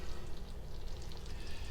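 Baked truffle macaroni and cheese, fresh from the oven, bubbles and sizzles with a soft, steady crackle and fine popping. It is heard up close and quiet, with no voices.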